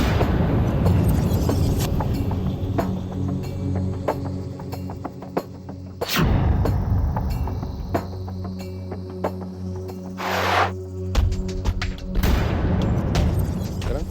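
Several sharp loud bangs ring out over a dense, rumbling action-style soundtrack, with heavy low booms and bursts of noise between them.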